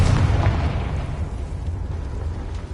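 A Confringo spell explosion in the Hogwarts Legacy video game gives a loud, close, rumbling boom with a dense burst that slowly decays into a low roar.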